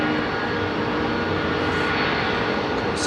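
Airbus A380 jet at London Heathrow, a steady, loud broadband engine roar that holds constant through the short stretch, close by and with no talk over it.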